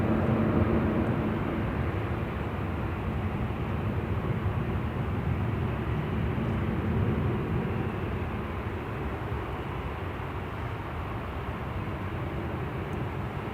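An Ethiopian Airlines plane arriving at Manchester Airport after a flight from Addis Ababa via Marseille, a broad steady jet-engine roar heard from a distance, holding level and easing slightly toward the end.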